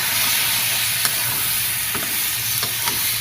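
Cut potatoes frying with turmeric, chili powder and ground coriander in a pan, giving a steady close sizzle with a few soft stirring scrapes, no voices.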